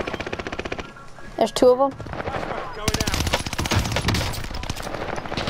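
Video game gunfire during a match on Rebirth: bursts of rapid automatic fire and single shots, fairly close and loud, run through most of the stretch, with players talking over the shooting.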